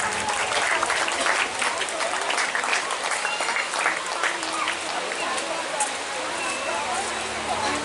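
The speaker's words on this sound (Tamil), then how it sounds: "அன்பு நிறைந்த கரகோஷங்களை கொடுத்து உற்சாகப்படுத்துமாறு கேட்டுக் கொள்கிறேன்." Steady applause from a crowd at a school building opening ceremony and diamond jubilee fills the whole stretch, a dense patter of clapping that continues without a break.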